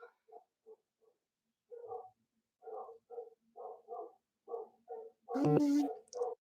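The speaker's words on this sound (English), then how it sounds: "So, I don't know what they're barking at, but they're barking at something" Several dogs bark at something in the distance, a run of short, evenly spaced barks that end in one louder, closer burst.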